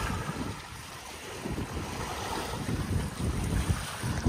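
Wind and splashing water wash over a boat moving across open water, a continuous rushing noise with no voices.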